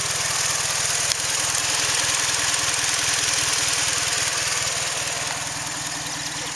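A 2003 Saturn Vue's 2.2 engine idles rough, a steady close low drone with a fast, uneven pulsing beat running throughout and no talk.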